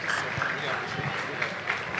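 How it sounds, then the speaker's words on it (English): An audience claps after a talk at a data conference, a short burst of dense applause from a crowd with a voice speaking over it. "Please give Dr. Jeffrey another round of applause"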